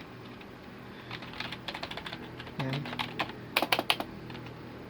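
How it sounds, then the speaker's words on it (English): Clicky keystrokes on a Rakk V2 ROY membrane gaming keyboard, fast irregular bursts of taps that grow louder and sharper toward the end, with a brief voiced sound partway through. "It is membrane type of keyboard, but it is clicky."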